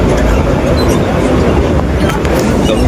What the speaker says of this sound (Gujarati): તો મિત્રો આ મેમુ ટ્રેન છે.